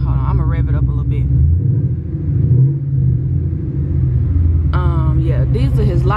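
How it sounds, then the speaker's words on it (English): A car engine with a 6-speed manual gearbox rumbles up close and swells into a rev, with a person talking over it at the start and again near the end. "I'm gonna rev it up a little bit"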